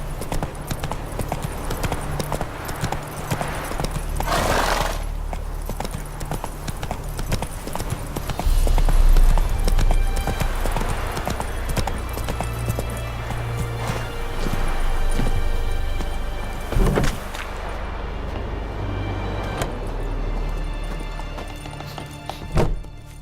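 Horse hooves clip-clop steadily as Roach is ridden in The Witcher 3 video game, a continuous galloping rhythm under game music and ambience, with a brief neigh or louder thump partway through.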